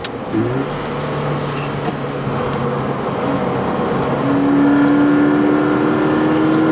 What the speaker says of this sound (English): So, going around the corner in the BRZ